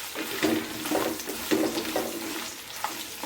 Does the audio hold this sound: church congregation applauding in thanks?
no